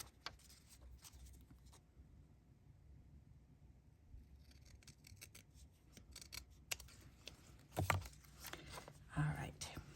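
Scissors cut paper for a book-page pocket card, giving a few short crisp snips and rasping strokes close by, scattered among quiet handling noises and soft speech.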